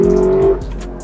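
A Lexus LC convertible accelerates hard, its engine note rising loudly for about half a second before lifting off into a lower exhaust rumble with brief crackles and pops.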